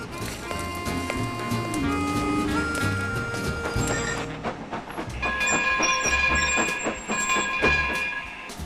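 A railroad train sound effect with steady rhythmic clattering of wheels on track and sustained horn-like tones, loud and continuous throughout.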